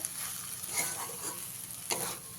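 Chopped coriander leaves being stirred into a potato filling in a hot pan, with soft scraping and stirring strokes over a light sizzle and a couple of sharper clinks, close and fairly quiet with no talk.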